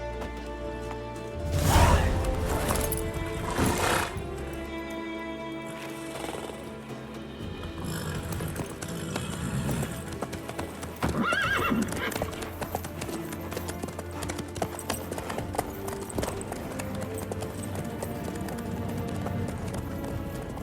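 Horse hooves in The Witcher 3 video game: rhythmic clip-clop of a horse under a dense bed of game music and ambience, with a few louder thuds early on.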